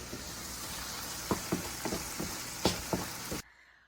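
Steady sizzling of tadka spices in hot oil with a few sharp clinks of stirring, ending abruptly in near silence.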